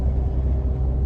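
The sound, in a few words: Ford EcoBoost 2.7 exhaust with resonator deleted, cruising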